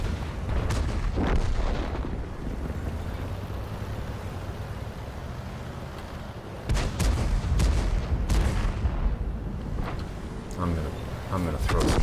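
Enemy tank cannons firing in a tank video game battle: a heavy boom early on, then a cluster of loud shots and explosions midway and more blasts toward the end, over rumbling engine and battle noise.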